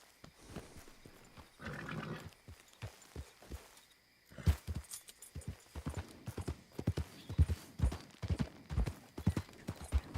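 Hooves from a horse in Red Dead Redemption 2 clip-clop in quick, uneven bursts, first at a walk and then picking up to a faster run, fairly quiet, with a short whinny-like sound near the start.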